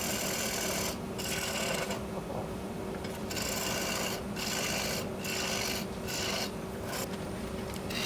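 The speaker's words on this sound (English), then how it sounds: "My favorite bowl gouge is going to make short work of this" A bowl gouge cutting into a cracked wooden bowl blank spinning on a woodturning lathe, a continuous close rasping scrape that swells and fades in rhythmic passes over a steady motor hum.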